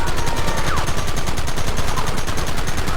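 Continuous loud gunfire fills a Red Dead Redemption video game shootout, rapid overlapping shots crackling without pause throughout, with no talk over it.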